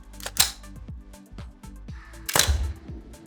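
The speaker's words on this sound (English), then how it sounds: "cycles that slide on the pistol, or cycles the bolt on that rifle and puts the weapon back in the battery" Mechanical clicks and two sharper clacks, close and crisp, as the slide is cycled on a training pistol in a firearms simulator to clear a malfunction.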